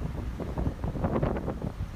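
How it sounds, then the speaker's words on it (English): Strong wind buffets the microphone in a steady rumbling roar with gusty surges, no voices. "I don't know if you guys can hear the wind,"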